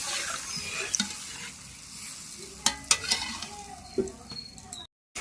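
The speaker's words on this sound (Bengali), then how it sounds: "বন্ধুরা দেখুন ঝোলটা টকবক করে ফুটছে" Curry broth with potatoes, for a rohu fish and drumstick dish, bubbles in a pan with a soft continuous simmering hiss and a few louder pops and spoon clinks, fairly quiet and close.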